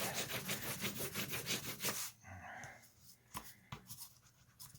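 A bone folder rubbed briskly over a joint in a bookbinding project, giving a close, rapid run of scratchy rubbing strokes that stops abruptly, followed by a few scattered light taps and clicks.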